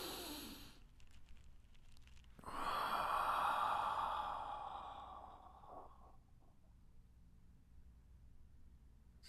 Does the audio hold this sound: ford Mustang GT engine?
no